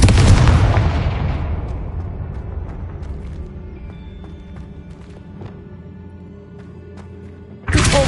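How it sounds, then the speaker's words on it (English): A Confringo fire explosion spell in the video game Hogwarts Legacy gives one loud booming blast that fades into a long rumbling tail, followed by a sharp new burst at the end. "Confringo."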